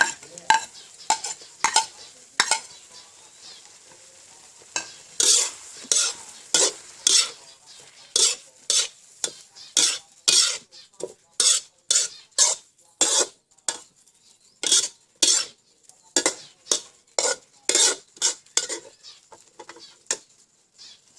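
Mixed wild mushrooms stir-fried in a pan, a utensil scraping and clacking in steady, repeated strokes over a soft sizzle, close and fairly loud, with no voices.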